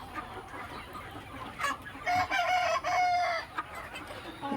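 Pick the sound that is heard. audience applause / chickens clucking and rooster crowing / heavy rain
chickens clucking and rooster crowing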